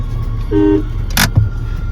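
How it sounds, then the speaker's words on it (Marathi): A car horn sounds in one short toot at a house on a road trip to Pune, loud and close, with engine rumble and a brief clatter around it. "हॉर्न वाजवाव."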